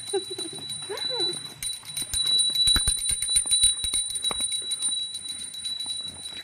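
A hand bell rings during a Gauri procession at a Konkan home's Ganesh festival, a run of quick metallic strikes after a brief voice at the start, against a background hum.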